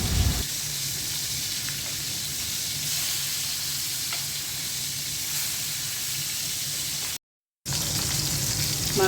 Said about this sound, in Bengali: মাছটা আমি কড়া করে ভেজে নিয়েছি